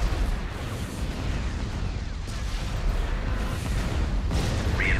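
Bombing explosions in the video game Star Wars Empire at War: Forces of Corruption, a dense run of overlapping booms and rumbling blasts with steady loud battle noise throughout.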